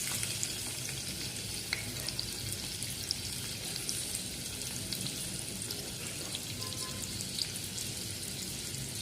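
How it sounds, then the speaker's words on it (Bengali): Onions fry in a pan with five-spice seeds and broken dried red chillies for sabudana khichdi, giving a steady, close, crackling sizzle with light stirring and no talking. "পেঁয়াজ ভাজা এই পেঁয়াজগুলো দিয়ে দিচ্ছি।"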